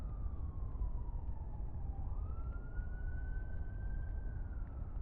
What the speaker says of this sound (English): I hear sirens outside.